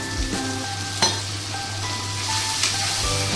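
Liver curry masala with ginger paste, cumin and coriander powder and a splash of water is stir-fried in oil. It makes a continuous loud sizzle broken by a few scraping strokes of the spatula, with no talking.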